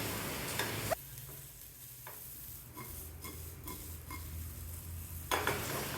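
Sweet potato pieces fry in a pan for a spicy poriyal, with a soft, steady sizzle broken by a few scraping stirs and louder clatters at the start and near the end, no voices.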